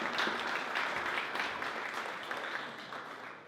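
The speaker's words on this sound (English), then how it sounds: "a round of applause for the Pioneer who has this every week" An audience at a talk on agentic AI applauds, with a steady wash of clapping that slowly fades over a few seconds. It is fairly quiet and heard from within the room.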